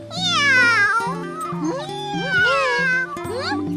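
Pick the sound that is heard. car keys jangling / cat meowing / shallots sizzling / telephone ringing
cat meowing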